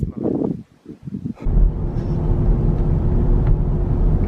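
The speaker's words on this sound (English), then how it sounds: "one of the things I find the downside of driving this car is that the motor is quite noisy" A transverse-mounted 3.6-litre VVT V6 in a Chevy Traverse on 18-inch alloy wheels drones steadily while driving, a low continuous engine and road rumble that runs throughout after a brief quieter moment at the start.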